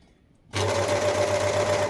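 An overlocker sewing machine starts abruptly after a quiet moment and runs loud and close with a steady, fast mechanical hum while its threads are being changed.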